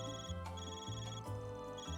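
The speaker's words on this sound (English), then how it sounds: "Your Zypha's ringing, Van." A Xipha handheld device rings in the video game Trails through Daybreak, giving a steady electronic ringtone with a repeating melodic pattern at low volume and no talk over it.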